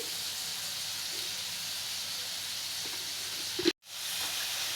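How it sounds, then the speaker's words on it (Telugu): Sliced onions with a little turmeric and salt frying in a pan for egg curry, a steady soft sizzling hiss that runs unbroken, with a brief clatter and a momentary cutoff near the end. "ఆనియన్స్ చాలా త్వరగా ఫ్రై అవుతుంది"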